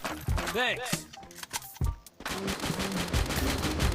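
Rapid gunfire from the video game Free Fire, bursts of shots mixed with game sounds and a player talking over the action.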